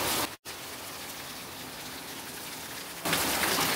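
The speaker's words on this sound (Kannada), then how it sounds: "ಚಿಕ್ಕಮಗಳೂರಿನಲ್ಲಿ ಒಂದು ಮಳೆಯ ವಾತಾವರಣ ಎಷ್ಟು ಚೆನ್ನಾಗಿದೆ ನೋಡಿ." Steady rain falls in Chikmagalur at an outdoor space of a homestay, a dense, even hiss of drops on surfaces that cuts out briefly near the start, then swells louder toward the end.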